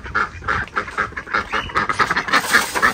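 Ducks being fed at a mini zoo loft quack in a busy, overlapping chorus, loud and close, with repeated honking calls running steadily throughout.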